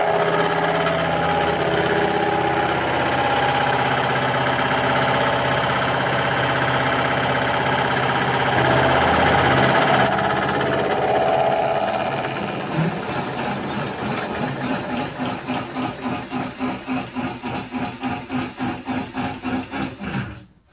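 A powered lathe slotter takes a 1.5 mm cut on a slide bolster, starting as a dense, steady mechanical roar and settling into a fast, regular train of cutting strokes near the close.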